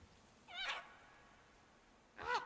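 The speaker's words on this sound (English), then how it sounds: "It was a cat." A cat's meow in the video game Hades 2, two short harmonic cries, one around the middle and one at the end, moderately loud with quiet game ambience between them.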